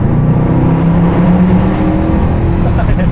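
Mercedes C63 507 Edition accelerating hard, a loud, steady engine roar with a rising tonal drone filling the whole stretch, heard from inside the car with no talk.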